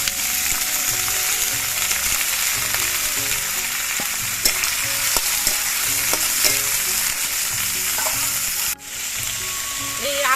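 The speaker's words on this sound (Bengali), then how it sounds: "এবারে এই তেলের মধ্যে দিয়ে দিচ্ছি আলুর খোসাগুলো" Potato peels frying in hot oil in a pan, a loud, dense, continuous crackling sizzle with stirring scrapes and knocks, briefly dipping near the end before the frying resumes.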